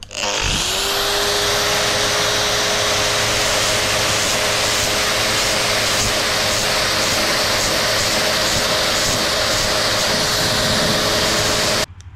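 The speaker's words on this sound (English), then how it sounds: "I'm just going to take some of this 80 grit right here, this grinder, and just barely touch this up right here" An angle grinder fitted with an 80-grit disc spins up and runs loud and continuous while lightly sanding fiberglass on a 1966 Corvette, a steady close whine with no talking.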